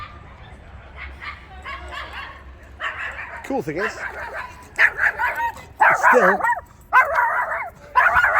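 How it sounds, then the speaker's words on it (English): A small dog yips and whimpers in quick, excited bursts at close range beside a 3.8 Chevy-powered MGB, while someone talks in between. "I'm being attacked by a dog."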